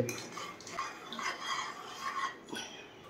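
A utensil stirs melted aloe vera soap base in a pot, making soft, faint scraping and clinking against the metal in an irregular rhythm, close up with no talking.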